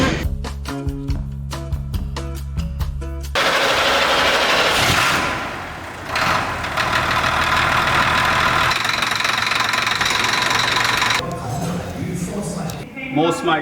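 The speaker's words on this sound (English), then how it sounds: "it sounds a bit knocky. So I Googled engine knocking." An engine with a knocking fault idles close by, tapping in a fast, regular rhythm for a few seconds before louder, rougher noise takes over, and people talk over it.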